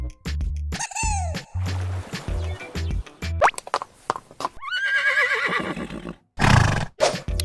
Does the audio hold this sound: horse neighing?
yes